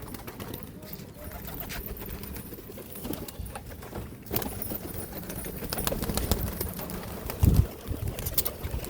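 Biscuit pigeons at a rooftop loft coo and flutter against a steady outdoor background, the bird sounds moderate and close, with a short louder thump near the end.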